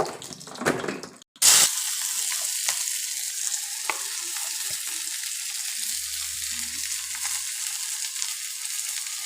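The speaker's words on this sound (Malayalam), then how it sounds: "ഇതിൽ കടുകിട്ടു, എണ്ണ അടുപ്പിൽ വെച്ച് കടുകിട്ടു കേട്ടോ." Mustard seeds spluttering in hot oil on a stove, a loud, steady crackling sizzle that runs on after a brief burst of handling noise at the start, close by.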